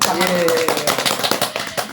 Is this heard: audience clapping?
yes